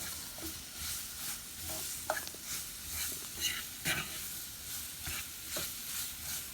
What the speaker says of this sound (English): But I'm going to keep mixing it because I want it to be, I like my gravy dark.